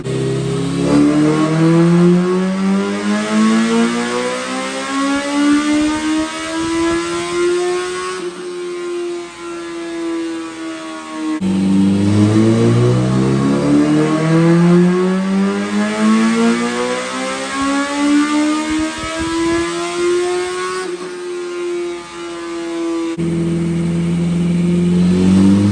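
Engine on a dyno after its fuel map was leaned slightly, making long full-throttle pulls: a loud, close roar that climbs steadily in pitch, cuts off, then repeats the sweep.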